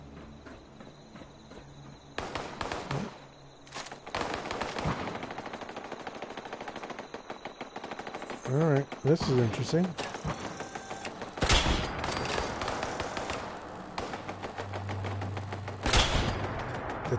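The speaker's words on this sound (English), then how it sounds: "The turrets have gone online, which is different." Automated turrets in Fallout 76 fire rapid bursts of gunfire. The bursts repeat in fast clusters over a steady insect-like ambient hum, and a voice speaks briefly in between.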